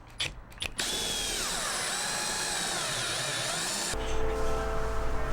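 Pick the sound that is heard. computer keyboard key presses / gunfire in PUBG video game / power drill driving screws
power drill driving screws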